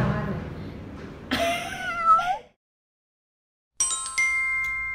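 A cat meows and yowls in drawn-out, wavering cries, fairly close, followed by a silent gap and then a bright ringing chime.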